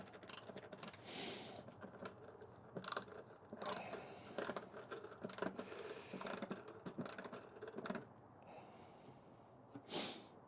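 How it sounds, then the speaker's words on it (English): Screws being slowly worked out of an old guitar: faint, quiet ratcheting clicks and small scraping twists come in short irregular bursts, with soft breathing between them. "And slowly, very slowly remove the screws."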